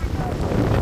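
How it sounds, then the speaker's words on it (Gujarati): Strong wind buffets the microphone outdoors near millet fields in a brief, loud, low roar. "પવન આવે રે"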